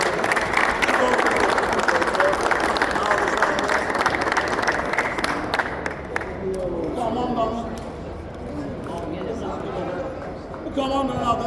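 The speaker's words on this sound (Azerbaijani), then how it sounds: "Alqışlar" Audience applause at a 40+ football final awards ceremony, dense and steady clapping for about six seconds before thinning into murmuring crowd chatter, with a fresh burst of clapping at the end.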